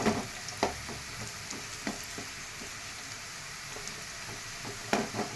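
Village-style fish frying in a pan before egg is added, a steady soft sizzle of hot oil with occasional sharper crackles and pops, close and continuous without talk.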